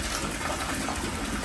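Shower water runs in a room at a Japanese ryokan, a steady broadband hiss of spray that holds even and unbroken throughout.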